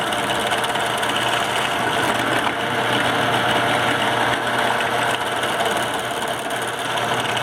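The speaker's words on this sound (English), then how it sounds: "we're going to go ahead and drill out all of these holes" A power drill whirs steadily and loudly without pause while boring finger holes in a flute, a constant buzzing motor drone with no voices.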